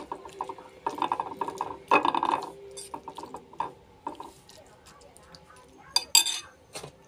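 Utensils clink and scrape in a bowl while eggplant salad is mixed with vinegar, producing irregular metallic clatters and taps in uneven bursts, a couple of them louder, with faint talk underneath.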